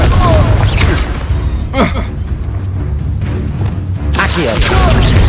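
Confringo blasting spell explosions in the Hogwarts Legacy video game, several sharp booming cracks and crashes spaced across the stretch amid game combat noise, with brief game voices mixed in.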